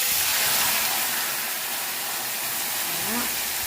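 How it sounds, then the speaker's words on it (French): Marinated onions hitting hot oil for chicken yassa, a loud continuous broadband sizzle and hiss that holds steady for several seconds, with a faint voice briefly audible near the end. "nous allons mettre les oignons marinés"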